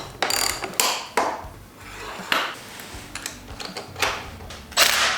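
A tool tightens a part on a Honda CRF300L motorcycle, making a string of close metallic clicks and ratcheting clanks in irregular bursts with short pauses between them.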